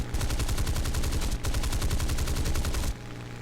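Cannons on a Spitfire Mk.22/Mk.24 in War Thunder fire two loud, rapid bursts back to back, a dense rhythmic hammering of shots that stops abruptly, leaving engine drone.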